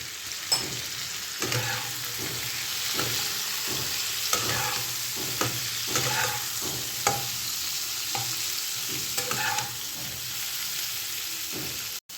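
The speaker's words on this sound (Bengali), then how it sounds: "আলুটাও আমার ভাজা হয়ে গেছে" Boiled potatoes with turmeric fry in a pan with a steady close sizzle, broken by repeated rhythmic scrapes and knocks of stirring throughout.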